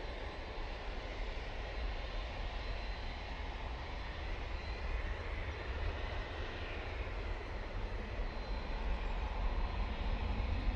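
A jet airliner takes off down the runway at Manchester Airport, its steady engine roar a constant broadband rumble throughout, swelling slightly louder toward the end with no talk over it.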